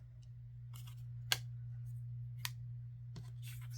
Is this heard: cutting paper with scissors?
yes